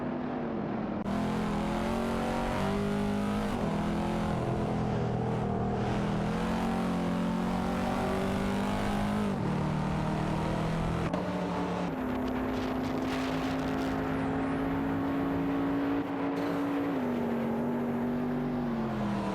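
Race car engines from a video game race featuring a CTR Yellowbird, a Panoz Esperante GT LM and a BMW M3 E46 GTR, a loud continuous drone that rises and drops through gear shifts, with several cars blending close together.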